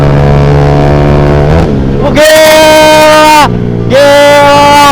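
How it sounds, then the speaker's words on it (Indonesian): A motorcycle's aftermarket exhaust revs hard in bursts, rising pitch sweeping up twice with loud blats between, close and loud, with voices at the start. "Kok bisa gitu bang suara knalpotnya?"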